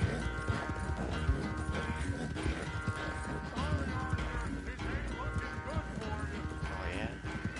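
A horse gallops in the Red Dead Redemption 2 video game, its hooves pounding in a fast, steady rhythm under game music and ambient sound, with a brief whinny mixed in.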